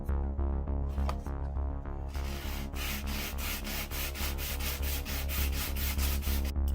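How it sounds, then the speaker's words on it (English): Rhythmic back-and-forth rasping of sandpaper on a wooden game master screen resting on a mouse pad, steady strokes repeating quickly and close up, with no talking. "We're gonna go ahead and start by sanding this."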